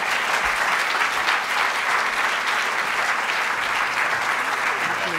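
An audience on a campus bursts into loud, sustained applause welcoming a guest speaker, a dense continuous wash of clapping with faint crowd noise underneath.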